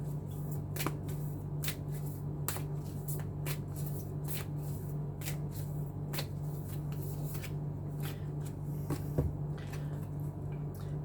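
Tarot cards shuffled by hand at close range, with soft repeated riffles and flicks in an irregular rhythm over a quiet room and no talking.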